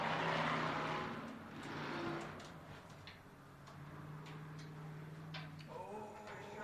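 Race cars run the final race of the night at Thunderbird Speedway, a short oval, their engines droning and revving at a distance under a fairly faint crowd and track ambience.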